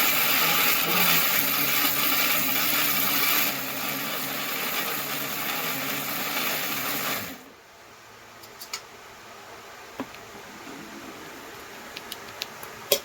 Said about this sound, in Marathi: हे करून घ्यायचं, मिक्सरला लावून घ्यायचं.